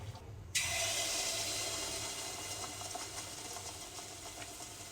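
Malpua pitha frying in hot oil, a steady bright sizzle that starts abruptly after a short quiet moment and continues evenly at moderate loudness, with a faint low hum beneath and no voices.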